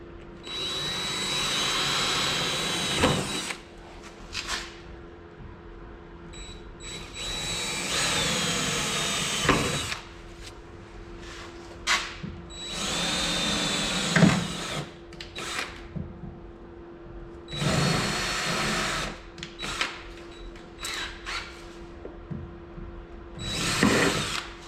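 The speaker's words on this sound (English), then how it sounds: "Drill the smallest little pilot hole." A power drill whirs in several short bursts separated by pauses while drilling a small pilot hole in a Pontiac 6000 wagon, fairly close and loud, with a steady hum underneath.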